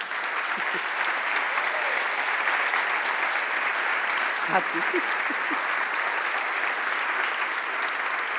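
Steady applause from an indoor audience at the launch of 'La mujer volcán', the memoirs of Carla Antonelli; the clapping is full and continuous for the whole stretch, with a brief voice heard partway through.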